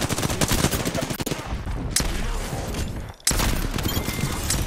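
Shotgun fire and other guns in the battle royale game Apex Legends, heard as dense, loud, overlapping blasts in rapid bursts with a brief lull partway through.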